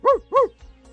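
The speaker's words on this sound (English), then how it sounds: "A dog is very helpful in nature and is considered man's best friend." A dog gives two quick, loud barks close by, followed by a soft, faint whine.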